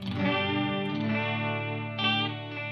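An electric guitar runs through a Non-Human Audio Benson Florist chorus pedal set very wet, a sustained strummed chord shimmering with thick, wavering chorus and echo, close and loud, with a second strum near the end.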